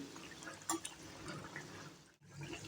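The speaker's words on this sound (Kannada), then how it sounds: "2 ಸೈಡು ನೀಟಾಗಿ ಕರಿತಾ ಇದ್ದೀನಿ ನೋಡಿ." Potato and flattened rice vade fry in hot oil with a steady close sizzle, a few small pops and a brief drop near the end.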